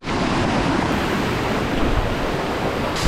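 Rushing water of Sai Khao Waterfall in Pattani, Thailand pours continuously in a dense, steady roar, loud and close, with no voices.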